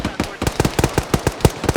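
Automatic machine gun fire in the military shooter ArmA 3 during a close-contact firefight, a rapid run of sharp bursts about a dozen rounds, loud and near, with a faint voice underneath.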